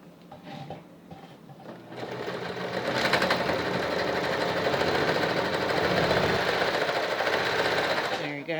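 Brother XL 3010 free arm sewing machine stitching, starting with a few quiet mechanical clicks before a steady, loud, rapid rattling run that stops abruptly near the end, with a person talking.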